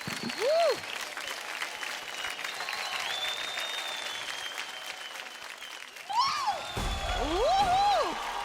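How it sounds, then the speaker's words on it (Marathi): A studio audience on a Marathi dance TV show claps and cheers steadily at a moderate level, with brief musical swoops and a louder swell toward the end. "जोरदार टाळ्या"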